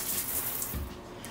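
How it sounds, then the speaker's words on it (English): Shower water running steadily in the small bathroom of a forest cabin in Allegheny National Forest, a continuous close hiss of spray at full pressure. "Here's your shower, let's test out the pressure."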